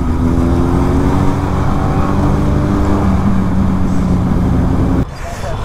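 Superbikes ride along a road in a loud, continuous engine roar with steady revving that holds for about five seconds, then drops off abruptly, leaving quieter road noise.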